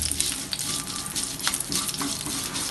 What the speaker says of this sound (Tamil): மிளகாய் வதங்கின உடனே